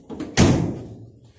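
A door slams shut once after fresh weather stripping has been fitted around it in a workshop, giving a single loud, close thud that fades quickly with no talk.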